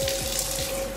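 Tap water runs steadily into a sink, close and continuous, as a face is splashed and wetted at the bathroom basin.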